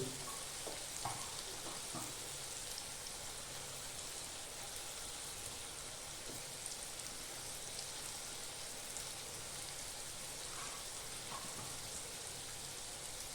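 Masala-coated fish fries in a pan with a faint, steady hiss and fine crackle, soft and even throughout, with no talking.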